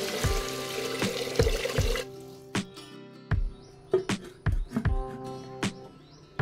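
Water pours steadily onto washed rice in a bowl for about two seconds, set to soak for bamboo chicken biryani; scattered close clinks and taps follow in a quiet kitchen.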